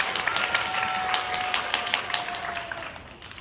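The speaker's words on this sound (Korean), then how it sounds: "큰 박수 한 번 더 부탁드리겠습니다." Audience applause fills a Korean business-model presentation contest hall after a team finishes its talk, steady dense clapping throughout that fades slightly toward the end.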